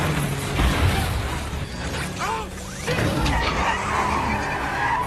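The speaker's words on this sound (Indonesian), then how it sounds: "Kelompok Shaw ini menembakkan sebuah chip ke mobil Roman dan Tej untuk mengambil alih kemudinya hingga mobil mereka dengan mudah dihancurkan" A movie car chase in which a hijacked car skids with screeching tires and is smashed, with squeals, scraping metal and crashing impacts over continuous engine roar and rumble.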